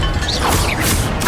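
Incendio fire spell cast in Hogwarts Legacy: a loud, dense burst of whooshing, crackling impact noise filling the whole short moment, with swishing sweeps layered over it.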